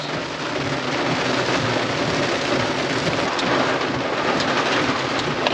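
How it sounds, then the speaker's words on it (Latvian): Heavy rain pours steadily in Miami, a dense continuous hiss with low rumbling that may be thunder, loud and unbroken, with no voices. "Tas ir tikai lietus."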